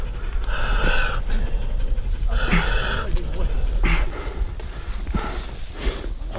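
Horse hooves clop along in an uneven walking rhythm while people talk over them outdoors at a cattle-catching ranch.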